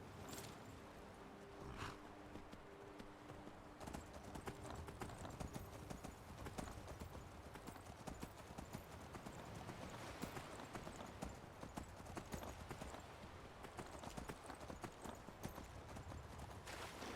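Horse hooves clip-clopping steadily in Skyrim, a continuous quick rhythm of soft hoof beats on the ground, faint and alone throughout.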